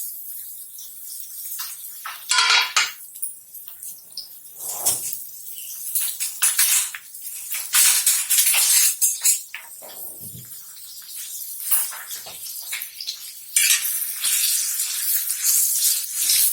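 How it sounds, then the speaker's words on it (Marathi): Two finely chopped large onions and a green chili drop into hot oil for egg bhurji, bursting into a loud, uneven hiss and crackle that rises and falls close by without talking. "तेल गरम झालं आहे। आता आपण टाकतोय दोन मोठे कांदे बारीक कापलेले आणि एक मिरची।"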